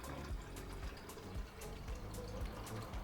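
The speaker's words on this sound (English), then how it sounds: "Now fill it up with some water." Water runs steadily from a tap into a container for rinsing harvested yeast, a soft continuous splashing trickle with faint gurgles, quiet and close, with no talking.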